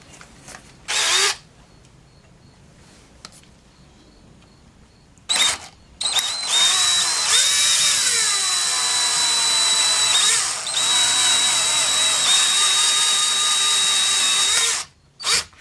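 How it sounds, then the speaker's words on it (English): A power drill whines steadily into metal, using cutting oil, while building a Subaru lower ball joint remover jig, pausing briefly, with the motor pitch shifting slightly as it bores; short bursts before it starts. "when you're drilling into metal, you don't want to go fast"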